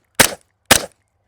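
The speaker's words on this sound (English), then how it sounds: "let's go for a shot and see where that goes." Two sharp pistol-caliber carbine shots fired at an outdoor range, about half a second apart, each loud and crisp with a short decaying tail and no talking.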